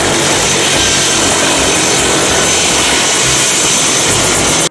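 A toy helicopter gives off a loud, dense, steady whirring rush that holds evenly for several seconds and then cuts off abruptly.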